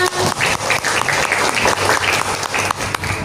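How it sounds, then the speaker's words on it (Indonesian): A school audience of students and teachers applauds at a literacy coaching session, a steady close burst of many hands clapping that lasts throughout with no talk over it. "Tepuk tangan ya."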